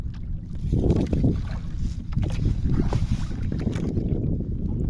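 Wind gusting against a small fishing boat at sea, a rough, low buffeting rush that swells and fades in uneven gusts, with some water splashing against the hull and no speech.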